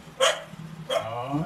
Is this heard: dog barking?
yes